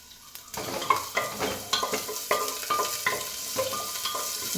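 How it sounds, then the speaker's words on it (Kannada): Ginger, garlic, cinnamon, cloves and cashews fry in hot oil for a vegetable kurma, a steady close sizzle broken by repeated scraping stirs and light clinks of a spoon against the pan. "ಸ್ವಲ್ಪ ಶುಂಠಿ, ಬೆಳ್ಳುಳ್ಳಿ, ಚಕ್ಕೆ, ಲವಂಗ, ಗೋಡಂಬಿ ಇಷ್ಟನ್ನು ಹಾಕಿ ಫ್ರೈ ಮಾಡಿ"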